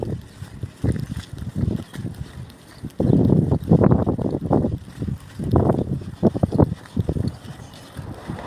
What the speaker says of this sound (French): il y a un peu de vent